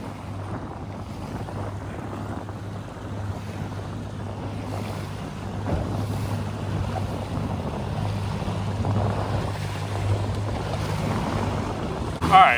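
A Carolina Skiff J16 motors out toward the jetties over choppy swells, its engine a low steady drone under gusting wind buffeting the microphone and splashing water, close and continuous.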